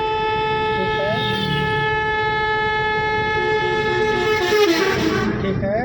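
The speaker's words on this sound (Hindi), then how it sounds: "चलिए हॉर्न दीजिए" A car horn held in a long steady blare during a driving lesson, loud and close, sounding continuously with a slight wavering toward the end.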